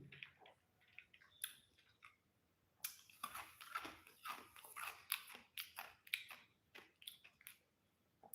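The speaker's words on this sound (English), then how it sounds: "chewing ice cubes now." Ice cubes chewed close to the mic, a run of sharp crunches and bites, sparse at first then coming in quick, irregular bursts of cracking and grinding.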